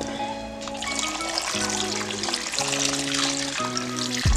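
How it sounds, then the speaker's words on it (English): Water pours steadily into a pot of chopped vegetables for chicken soup, a continuous trickling splash under a sustained tonal hum from other sounds. "Now we'll add in some water, enough water to cover this"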